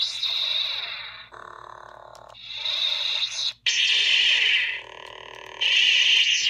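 Electronic toy lightsaber effects from a Rey lightsaber: loud buzzing hums and synthetic swooshes alternating in sustained bursts, close and steady with no talking.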